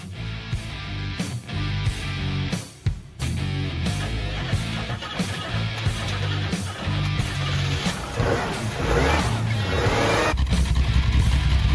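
An old barn-find Cadillac drives along with a steady engine rumble and road noise that swells slightly toward the end, heard from close by and continuous throughout.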